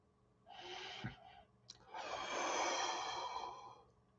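Deep breaths taken during meditation: a long, close inhale followed by a fuller, drawn-out sighing exhale, soft and airy with no talking.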